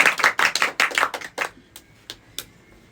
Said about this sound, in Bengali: জোরে হাততালি পাপড়ির জন্য।